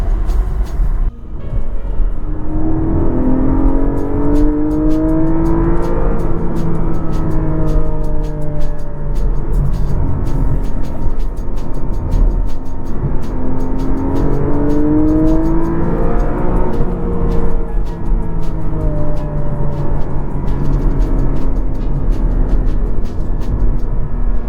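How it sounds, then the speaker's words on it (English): The flat-six engine of a Porsche Cayman drones and rises through gears while driving, with repeated rising whines and shifts under constant loud road and cabin noise, heard from inside the car. "one of the most noteworthy things I would say about this car is the incredible sound that the flat six engine makes"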